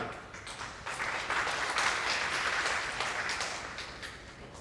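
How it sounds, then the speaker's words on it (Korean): Applause from an education policy forum audience, a steady wash of many hands clapping that swells slightly and holds for several seconds with no talking. "큰 박수 부탁드립니다"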